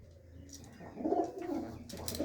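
Pigeons cooing at a house among farm fields, soft low coos rising mid-clip over a steady background, with faint higher bird calls near the end.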